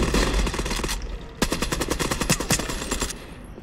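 Rapid automatic fire from a Kilo rifle in a Call of Duty–style shooter, two loud close bursts of rattling shots separated by a short gap, no talk over it.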